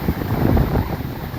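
Steady outdoor wind gusting across the microphone, a continuous low rumbling buffet with no voices, in the run-up to rain.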